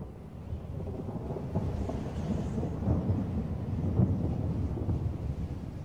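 Thunder rolls and rumbles through a spring storm brewing far out over the North Atlantic, a continuous low, heavy roar with swelling peaks and wind buffeting the open sea air.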